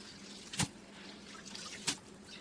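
Water drains from five kilos of soaked rice wrapped in a cloth, a faint steady trickle with two sharp drip or splash sounds standing out nearby.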